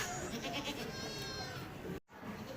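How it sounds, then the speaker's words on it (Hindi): An Azampuri cross goat bleats at a livestock market with a wavering, nasal cry. The call is heard over busy, noisy market ambience. "आप देख सकते हैं आजमपुरी क्रॉस में बकरी है"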